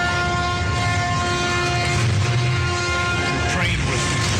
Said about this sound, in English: This is the sound of a giant cruise ship coming right at you.